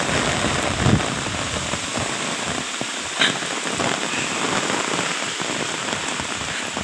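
Heavy rain pounds down during a windy storm, a loud, dense and steady roar of drops on surfaces with occasional low gusty thumps and no voices.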